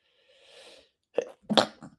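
A single sneeze bursts out close and fairly loud, preceded by a soft breathy intake and followed by a short trailing exhale, with no talking.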